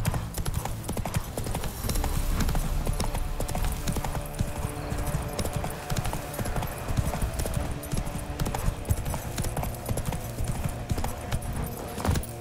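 Horse hooves from The Witcher 3 on PC, a continuous rapid clip-clop of galloping that stays loud and steady from start to finish, with no one speaking.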